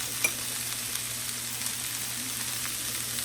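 Chopped onions sizzle and fry steadily in a pan, a close, continuous hiss with faint crackles and an occasional stir, with no one talking.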